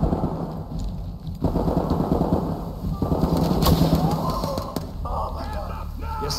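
Pepper ball launcher firing in the tactical shooter game Ready or Not, sharp repeated pops in quick bursts over game ambience, with voices talking during the shots.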